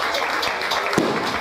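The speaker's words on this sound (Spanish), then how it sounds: "Fuerte los aplausos" Applause from an audience at the Uluazapa town festival, honoring the musicians' guild queen; a steady, dense wash of clapping fills the short stretch evenly, with one sharper slap near the middle.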